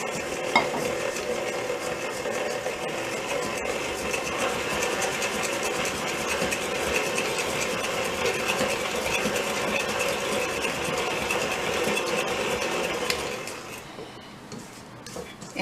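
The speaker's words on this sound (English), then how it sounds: "And then I have 3 ounces of sugar. I'm going to cream that together." A mixer creams sugar into a thick paste for Linzer torte dough, a steady whirring, rattling motor hum that runs unbroken for about thirteen seconds before easing off.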